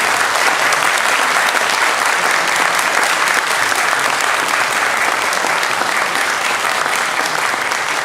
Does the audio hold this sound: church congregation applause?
yes